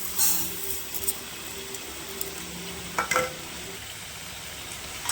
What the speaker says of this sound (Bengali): এর মধ্যে আমি দিয়ে দেবো মুগ ডাল।